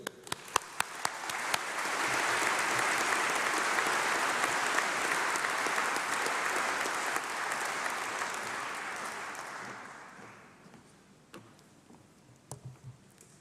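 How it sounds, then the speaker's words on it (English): An audience at a university graduation ceremony builds from scattered claps into a full, warm round of applause lasting around eight seconds, then fades to a few isolated claps. "Please join me in giving a very warm round of applause to Molly Schoenfeld"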